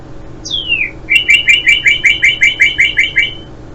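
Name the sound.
northern cardinal bird call sound effect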